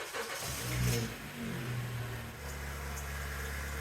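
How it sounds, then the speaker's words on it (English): A 2012 Honda Civic engine cranks and catches after an oil change, briefly revs, then settles into a steady low idle hum, fairly quiet and without talk. "I'll go ahead and start the car and check for leaks."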